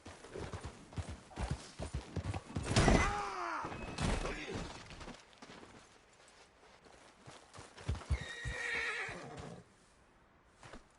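A horse in the video game Red Dead Redemption 2 whinnies loudly with a rising, wavering call, amid clattering hoofbeats and scattered thuds, then a second, shorter neigh follows near the end.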